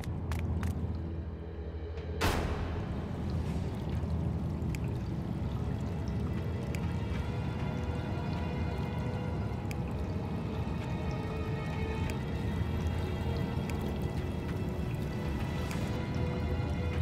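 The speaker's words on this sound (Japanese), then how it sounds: "水の音がする。" Flowing and dripping water in an underground area of the One Piece Odyssey game, a steady rushing wash with scattered drips, continuous and moderately soft throughout.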